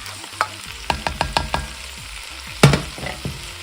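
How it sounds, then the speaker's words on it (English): Slightly mashed cooked potatoes drop into a soup pot in a series of soft, close thuds and plops, with a spoon scraping and stirring between them and one heavier splat near the end. "I'm just adding them to the pot now."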